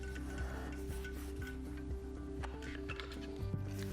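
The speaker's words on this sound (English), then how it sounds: "you wanna rub. You wanna rub it into the tape so that it fills the texture." Painter's tape is rubbed firmly onto a textured wall, making a steady close scratchy rasping with repeated strokes over a constant low hum, with no talking.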